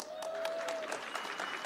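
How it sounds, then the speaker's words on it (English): Brief, fairly quiet applause from a small audience at a DistrictCon 2026 hacker conference session, with scattered claps and a faint tone running through the first half. "Round of applause."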